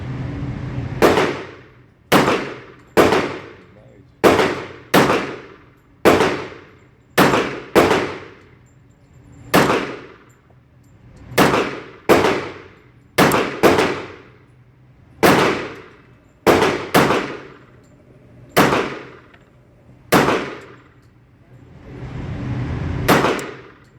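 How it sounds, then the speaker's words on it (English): Sharp .45 ACP shots from a stainless Bul Armory SAS II Tac Commander pistol at an outdoor range, fired at 7 yards: about fifteen loud, close reports with metallic ring, spaced unevenly with short pauses, no talking. "All right, that was the first 12 rounds, and feeling real good."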